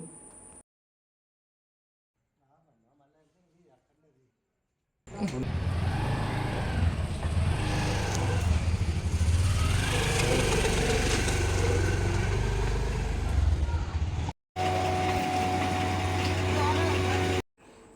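A scooter engine idles steadily and fairly close for several seconds, then cuts out briefly and restarts, its low hum continuous.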